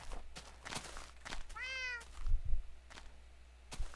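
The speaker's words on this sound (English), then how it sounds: "Cat's pretty loud, isn't it?" A single close, clear cat meow sounds in a blocky survival video game, rising then falling over about half a second. Footstep-like thumps and faint clicks come before and after it.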